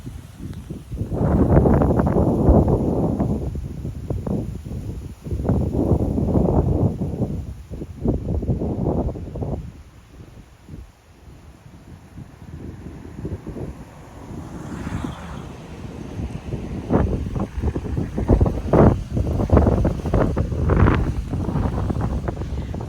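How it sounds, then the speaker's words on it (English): Strong northeast gusts of wind buffet the microphone in loud, uneven bursts at an anchorage off Raiatea, French Polynesia, easing briefly in the middle before surging again. "the wind I think today unusually is from the northeast, so it's quite windy"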